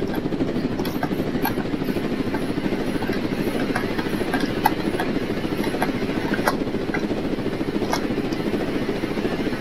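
A drone flying in the Roblox Jailbreak game, a steady, close buzzing rotor drone with a helicopter-like throb that holds evenly throughout, broken by faint clicks.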